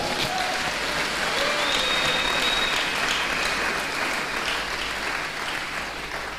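A church congregation applauds throughout a worship service, a dense, steady wash of clapping with crowd noise that holds loud and near before easing slightly at the end.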